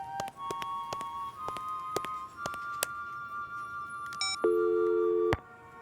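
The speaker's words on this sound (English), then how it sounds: "The line is dead." A telephone handset in a department store at Christmas gives a series of clicks and short tones, then a steady buzzing line tone that cuts off, heard close and alone with no talk.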